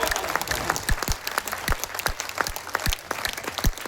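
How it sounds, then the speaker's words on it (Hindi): An audience at a Hindi poetry recital, a kavi sammelan in Bhagalpur, breaks into steady applause, dense clapping from many hands filling the hall for several seconds. "इस प्यारी सी बिटिया को भरे आकाश के लिए आपकी तालियां उठनी चाहिए"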